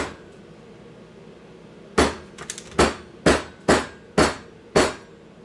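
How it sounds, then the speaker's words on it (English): A hammer strikes a mixture in a hands-on experiment: six sharp, evenly spaced blows, close and loud, after a brief quiet lead-in, with a light clatter between the first two hits. "Let's try the hammer first."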